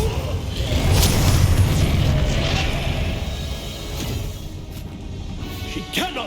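A Bombardo spell explosion in Hogwarts Legacy, a heavy boom swelling into a sustained rumble, then fading into lighter clatter and debris bursts.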